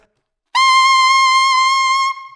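One sustained altissimo A on alto saxophone, loud and clear with rich overtones, held steadily before cutting off.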